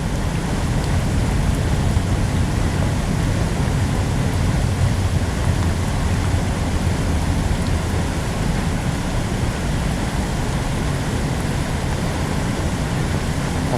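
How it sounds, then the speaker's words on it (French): Heavy rain pours outdoors beside the Garonne river during a fishing day, a loud, unbroken wash of noise with a low rumble beneath and no speech. "si ça continue à pleuvoir comme ça"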